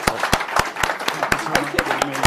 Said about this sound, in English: Please join me in giving them the warmest round of applause.